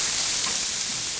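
Freshly chopped garlic sizzles steadily in a hot pan, a close, even frying hiss that runs without a break and with no voices over it.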